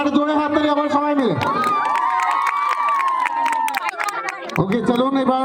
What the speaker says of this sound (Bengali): আর জোরে হাততালি আবার সবাই মিলে